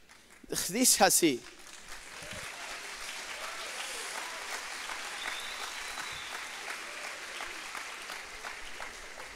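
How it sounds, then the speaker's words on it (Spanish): After a loud, brief vocal burst, an audience listening to a political speech settles into steady, moderately distant applause that carries on evenly for several seconds. "gracias por el aplauso"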